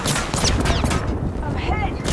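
Rapid, dense gunfire from the video game Apex Legends, loud and continuous throughout, with whizzing and ricochet-like effects layered over the shots.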